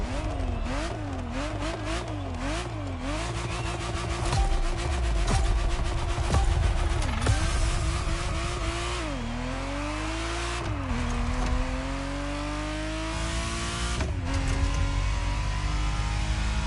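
Ferrari Testarossa engine in The Crew Motorfest racing game, revving loudly and continuously with rising and falling pitch sweeps as it accelerates and shifts, alone without talk.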